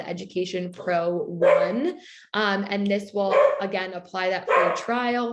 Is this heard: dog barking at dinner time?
yes